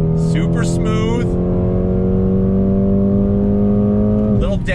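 A 2020 Mercedes-AMG CLA 35 pulls out of a turn on a clear run, its engine holding a steady, rising tone from inside the cabin while someone talks excitedly over it.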